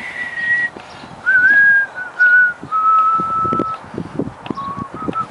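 A person whistles a song tune live, a clear melodic line of sustained and sliding notes in short phrases, close and prominent over faint background noise.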